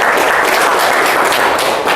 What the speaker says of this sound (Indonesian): kasih tepuk tangan dulu untuk teman-temannya